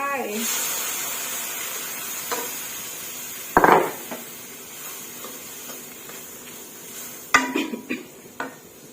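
A spoon stirring Thai chicken curry with dill, vegetable hummingbird flowers and basil in a pot, with scattered scrapes and two sharp clanks against the metal, over a faint steady background hiss.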